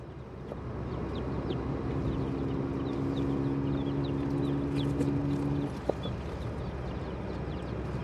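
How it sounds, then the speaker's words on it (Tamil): Chickens and chicks cluck and peep inside a coop, a busy chorus of short calls over steady background noise, with a brief knock near the end. "நம்ம கூட்டுக்குள்ள விட காட்டுவோமே நம்மளோட கோழி குஞ்சு"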